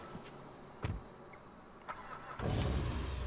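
An engine starts up in GTA V, the sound of a new car from the Finance and Felony update: a few short bursts, then a louder steady engine rumble taking over near the end, with no talking.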